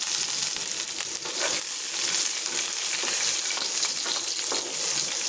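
Peanuts sizzle and fry in hot oil in a pan as cumin seeds and green chillies are added, with a steady, close, continuous crackle and occasional stirring and no voices.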